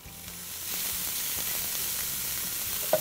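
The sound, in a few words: Italian sausage sizzling in olive oil in a pan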